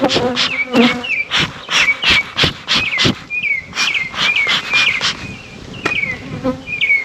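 Dense buzzing of many aggressive honeybees swarming close by and attacking a goat, rising and falling in steady pulses with sharp whining passes throughout.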